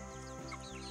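Hens in a backyard flock cluck softly in short, low notes over steady background noise, close by, in a brief moment without talk.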